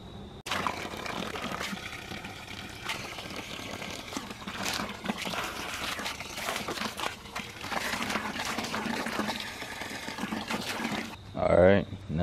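Water runs and splashes steadily into a container holding old rusty cast iron, a continuous pouring wash lasting about eleven seconds before stopping, followed by a brief clatter.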